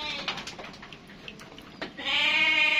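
A Dorper ewe that has just lambed lets out a loud, drawn-out bleat close by, after a stretch of faint rustling and scattered clicks in the pen.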